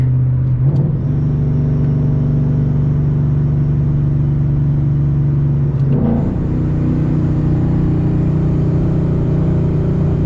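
A Paxton-supercharged Ford Mustang GT pulls hard in sixth gear, its engine a loud, sustained droning roar with a steady rising tone and one brief shift in pitch midway, heard from inside the car.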